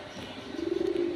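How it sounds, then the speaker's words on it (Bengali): A silver saddle racer pigeon coos close by, a low throaty rolling call that swells in the second half with a pulsing, trembling rhythm over faint background noise. "দেখার মতো কবুতর, অনেক বড় সাইজ"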